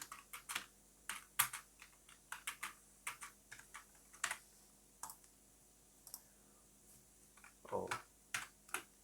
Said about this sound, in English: Type this guy out again.